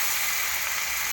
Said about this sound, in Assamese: জিকা আলু দিলোঁ, পূৰা ফ্ৰাই কৰি আছোঁ মই।